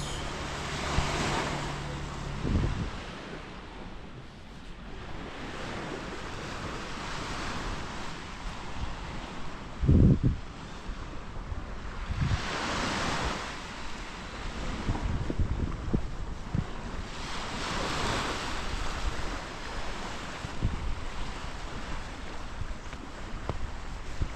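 Waves and wind at Cat Co Beach on Cat Ba Island, Vietnam: surf rolls in as slow, repeated swells under gusty wind rumble, with one brief thump midway and no talking.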